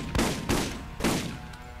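Shotgun blasts in the Borderlands video game, three sharp booming shots spaced irregularly, each with a short decaying tail, loud and close.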